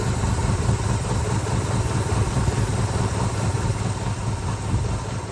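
A Honda engine idles steadily with its carburetor intake drawing hard enough to suck in tape, a constant low mechanical rumble heard up close with no pauses and no talking.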